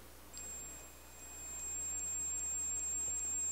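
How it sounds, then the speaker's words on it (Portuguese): A steady high-pitched multimeter continuity beep sounds continuously at low volume while testing a loudspeaker coil, unbroken and clean against faint background hiss. "Emitir um bip indica que a bobina desse alto-falante está perfeita."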